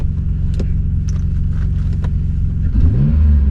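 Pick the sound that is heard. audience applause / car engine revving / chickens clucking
car engine revving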